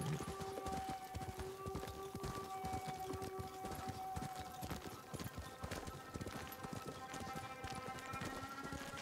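Quiet, steady clip-clop of horse hooves trotting on a hard surface in the video game Ghost of Tsushima, an even rhythm continuing throughout alongside faint tonal background sounds.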